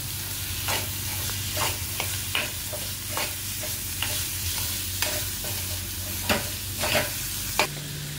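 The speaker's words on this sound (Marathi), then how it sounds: "कांदा आपण थोडासा याच्यामध्ये फ्राय करून घ्यायचा, चांगला शिजवून घ्यायचा" Chopped onions frying in oil for chicken dum biryani, a steady crackling sizzle with regular scraping stirs of a spatula roughly every half second, close and uninterrupted by talk.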